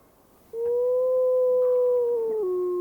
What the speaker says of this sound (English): Big Gray howls for the pack.